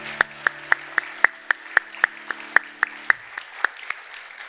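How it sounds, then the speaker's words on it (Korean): A church congregation claps in an even rhythm, about a dozen sharp, evenly spaced claps at close range, while sustained organ or keyboard tones fade out partway through. "박수로 축하합니다."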